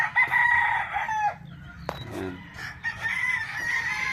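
Roosters crow and chickens cluck at a gamefowl farm, with a loud nearby crow at the start followed by more distant crowing and clucking in the background.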